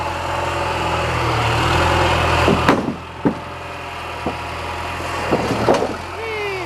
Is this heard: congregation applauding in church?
no